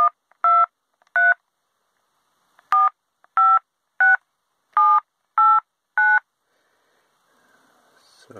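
Keypad tones from a Motorola bag phone with no service: nine short, loud dual-tone beeps, in two quick groups separated by a pause, followed by a faint rustle, with no voices.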